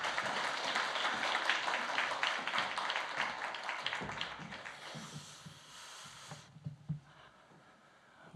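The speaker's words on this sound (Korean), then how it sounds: "우리 선교사님 모실 때 큰 박수로 환영해 주시기 바랍니다." A church congregation at a Sunday afternoon service applauds to welcome a missionary, dense clapping filling the room for several seconds before thinning out and fading to a few scattered claps.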